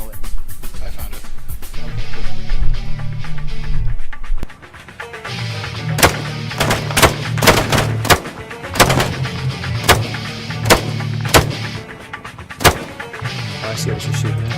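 Gunfire in the military shooter ArmA 3 on a Red Sands desert map: a string of loud, sharp single shots spaced unevenly through the second half, over a low engine-like drone, with someone talking.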